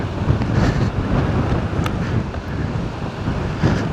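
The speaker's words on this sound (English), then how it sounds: "Wow, those waves are large." Large ocean waves at a beach after rainstorms, a dense continuous roar of surf mixed with heavy wind buffeting the microphone, loud and close throughout with no voices.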